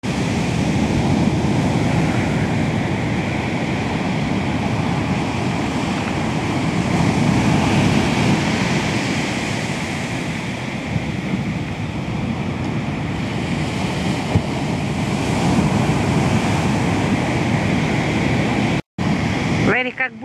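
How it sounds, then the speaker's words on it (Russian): Ocean waves roll onto the shore in a continuous, loud wash of surf with wind buffeting the microphone, steady and close throughout. "Как будто дразнит океан, вот подходит дальше, дальше."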